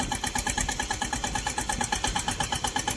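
Tractor engine running on a village farm, a close, loud, rapid steady chugging pulse that holds evenly throughout.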